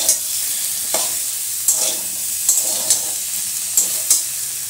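A medium tomato and two bay leaves sizzle steadily in a pan, with a spatula scraping and stirring in regular strokes about every second, close and fairly loud, with no talk.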